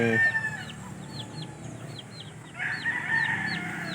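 Tethered gamecock roosters and hens in a yard give repeated close clucks and short calls, with a louder crow-like cry near the end and faint background noise.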